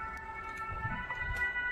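Fire engine siren wailing as it sets off on an emergency call through city streets, a steady wavering tone at moderate distance over traffic rumble.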